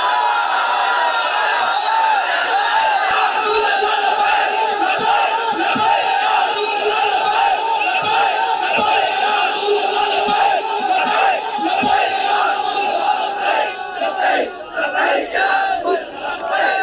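A large crowd at a religious rally chants the slogan Labbaik in loud, sustained unison roars, repeated waves of massed voices close and powerful throughout, with no single speaker standing out.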